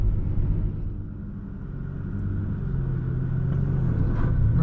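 A Nissan GT-R engine drones low and steady in first gear, a throbbing rumble that rises slightly toward the end, heard close from inside the car with no talking.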